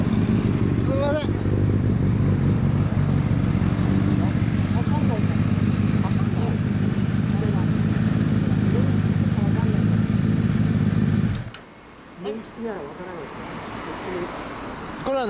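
A 2014 Honda CBR1000RR Fireblade SC59 sport bike with an Arrow exhaust idles loudly and steadily up close for about eleven seconds, then cuts off, leaving voices talking.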